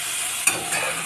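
Chicken soup is stirred in a pot: a brief, close scrape of a spoon with light sizzling, one sharp clink partway through, all in roughly a second with no voices.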